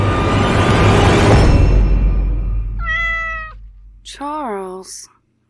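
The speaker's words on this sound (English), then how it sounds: "such a wonderful cat" Indoors in a horror drama, a black cat gives two clear, close meows, the second longer and wavering, after a burst of louder noise.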